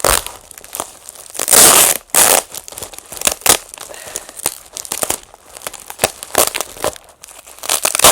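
Packing tape is ripped and peeled off a parcel during an unboxing of cacti and green beads, with repeated crinkly tearing and crumpling bursts at close range and no talking.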